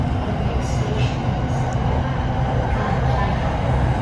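A Bangkok SRT Red Line commuter train on the Bang Sue–Rangsit line runs at speed near Lak Si, a dense, steady low rumble and hum of wheels and motors heard close from inside the car.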